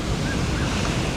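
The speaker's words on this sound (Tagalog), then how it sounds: "Nandito ang dagat paghapon." Sea waves wash onto the shore at Aroma Beach, San Jose, Occidental Mindoro, in the afternoon, a steady close surf roar mixed with wind buffeting the microphone, with no voices.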